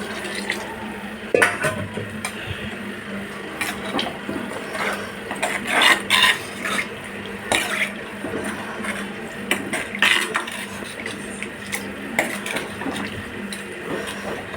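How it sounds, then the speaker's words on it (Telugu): Water is poured into a pot of mutton and brinjal curry, with intermittent splashy gushes mixed with metallic clinks and clatter of the pot and utensils, fairly close and without speech. "ఇప్పుడు కొంచెం వాటర్ పోద్దాం"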